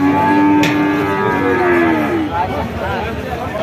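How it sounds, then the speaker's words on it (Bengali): Several thin, bony cattle moo loudly nearby, their long low calls overlapping, with faint crowd murmur behind at a livestock market. "আপনারা দেখতে পাচ্ছেন বিক্রয়কৃত শুকনো হাড্ডিসার গরুগুলো"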